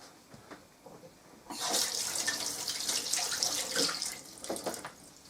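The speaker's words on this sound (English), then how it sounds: "So I'll just rinse that into the tap" A kitchen tap running as something is rinsed under it, a steady splashing gush that starts abruptly and continues with uneven spattering, close and fairly loud.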